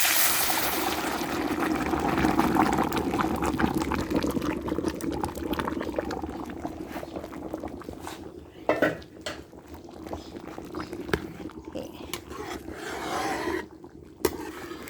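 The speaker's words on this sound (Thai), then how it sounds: "ปล่อยเขาเดือดก่อนนะ ปล่อยเขาเดือด" A pot of Thai coconut curry sauce, nam ya kati, bubbles on the stove in a thick continuous simmer, then a few sharp clinks of a utensil against the pot come through near the end.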